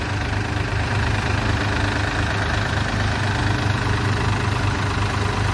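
A Powertrac Euro 45 Plus 4WD and a New Holland Excel 4710 4WD tractor engine running together under load, a loud, unbroken low diesel rumble with a regular pulsing beat and no talk.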